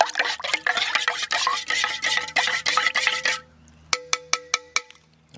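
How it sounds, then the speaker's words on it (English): A mixture is stirred in a camping pot outdoors in a forest, with rapid scraping and clinking strokes for about three seconds, then a pause and several sharp metallic taps ringing out. "we're just going to mix this up"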